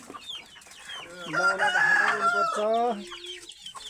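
Chickens cluck steadily in a crowded coop at a rural home, the calls close and fairly loud, with a voice speaking briefly over them.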